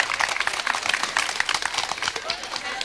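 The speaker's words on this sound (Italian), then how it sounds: "Ti devo chiedere gli applausi qui." Dense applause from an audience for the Capestrano choir fills the whole stretch, steady and close with a constant patter of clapping hands.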